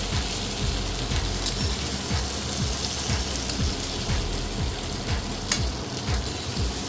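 Okra (lady finger) fries in a pan with a dense, steady crackling sizzle, close and fairly loud, continuous throughout with faint periodic low thumps underneath and no talking.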